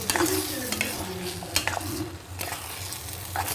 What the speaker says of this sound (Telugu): ఇదిగో ఫ్రెండ్స్, మసాలా వేసాను ఆల్రెడీ. మరి కొంచెం మసాలా వేస్తున్నాను.